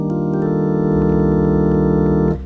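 A gospel organ holds a sustained minor chord with an added 13th, rich and steady for about two seconds before it is cut off abruptly, loud and alone with no voices.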